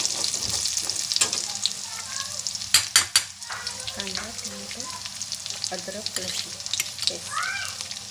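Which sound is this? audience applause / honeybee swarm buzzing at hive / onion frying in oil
onion frying in oil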